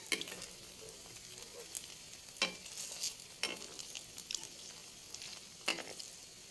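Burger patties frying in a pan: a steady, close sizzle runs throughout, broken by a few louder crackling bursts and soft stirring or scraping sounds, with no one speaking.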